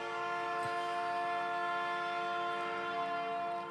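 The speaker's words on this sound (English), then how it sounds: "Somebody's just hitting a horn." A long sustained horn blast like a train horn, steady and loud, holding one chord for several seconds without a break.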